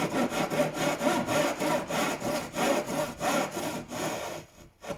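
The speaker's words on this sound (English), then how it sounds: "Japanese saws cut on the pull stroke. So it cuts as I'm pulling it this way." Japanese pull saw cutting a wooden mitre joint, a steady run of rhythmic rasping strokes, about two per second, close and fairly loud, slowing and fading out at the end.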